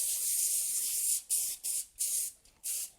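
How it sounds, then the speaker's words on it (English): Cooking spray hisses onto aluminum foil lining a pan: one long steady spray, then four short bursts with brief gaps, close and fairly soft. "now you need this sucker. Cooking spray."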